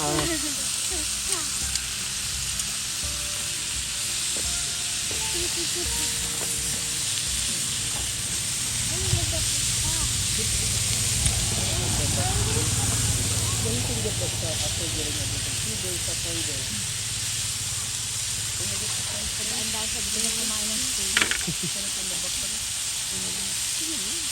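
An omelette frying in a pan outdoors, a steady soft hiss and sizzle running throughout, with people talking faintly nearby.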